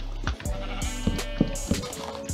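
Sheep in the video game Minecraft bleat several times in short, repeated calls against a steady low background tone, with no talking.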